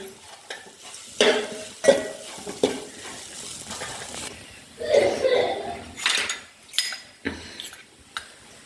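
Pea filling for matar kachori roasting in a pan, with a low sizzle under repeated loud scraping and clanking stirring strokes at an irregular rhythm, close and prominent.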